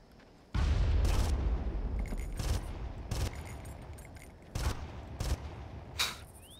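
A grenade detonates in the Far Cry video game with a sudden loud blast, followed by several further sharp bangs and rumbling bursts that fade over a few seconds.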